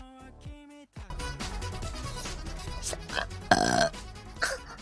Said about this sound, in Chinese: 先打个嗝。